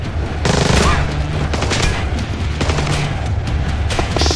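Rapid bursts of gunfire in the Xbox 360 stealth game Splinter Cell: Blacklist, loud and close, with repeated volleys and booms.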